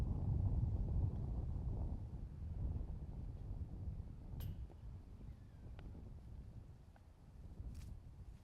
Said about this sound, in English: Now you see that wind actually ripping from left to right